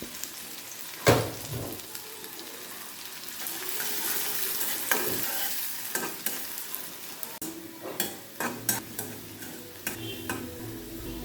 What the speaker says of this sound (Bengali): মরিচটা হালকা ভাজা হয়ে গেছে, পেস্ট কিছু দিয়ে দিলাম 2 টেবিল চামচ।